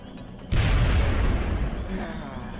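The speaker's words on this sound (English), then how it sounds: "Throwing grenade!" A grenade blast in XCOM: Enemy Within bursts in suddenly as a deep, loud boom, then rumbles on in a long, heavy roar that slowly fades.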